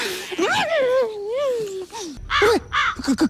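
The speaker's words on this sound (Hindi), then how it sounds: "कमीने कौवे, तू यहाँ क्या कर रहा है?" A crow caws near the listener in several sharp, harsh calls in quick succession, mixed with a voice speaking.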